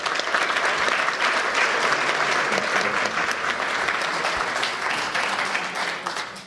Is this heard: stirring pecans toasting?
no